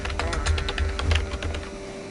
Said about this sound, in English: You can of course hear the typing as I am messaging away.